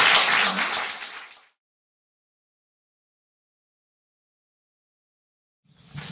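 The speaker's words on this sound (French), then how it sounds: "Je vous demande de les applaudir pour les encourager" A crowd applauds loudly, the clapping fading out after about a second and a half, followed by silence before applause briefly rises again at the end.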